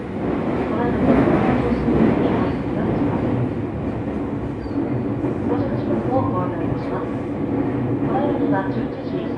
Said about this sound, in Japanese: この電車は急行本川通りです。